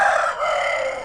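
Free-range village chicken rooster crowing nearby, one loud sustained crow lasting about a second, alone without talk.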